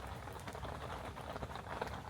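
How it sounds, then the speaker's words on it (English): Fine rain falls on a lake in a soft, steady patter of tiny drops, faint and continuous with no voices. "as you can probably hear, it's still raining"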